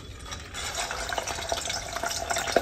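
Chicken wings frying in hot beef tallow for homemade honey BBQ wings, a steady bubbling sizzle with small sharp pops crackling through it at close range.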